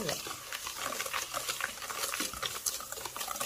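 Banana cake batter being stirred by hand after sugar is added, a steady scraping and sloshing of spoon against bowl that runs continuously, close and moderately loud, with no talk over it.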